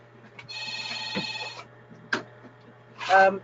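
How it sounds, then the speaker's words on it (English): A mobile phone rings in the middle of a professional conference presentation, several bursts of electronic tone with gaps between them, heard alone in a quiet room. "sorry, that's my colleague's phone, I'll just kill it"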